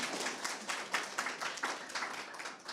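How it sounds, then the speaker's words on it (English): A small audience at a youth research and policy talk gives a brief round of clapping, with individual claps fairly distinct and quiet, fading within a few seconds. "Yes, we can give her a clap."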